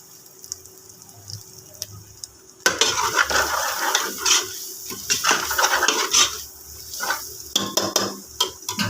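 A spoon stirs boiling potatoes with turmeric and salt in a pot, starting with a faint simmer and then turning into loud, busy scraping and clattering against the metal over a steady bubbling hiss.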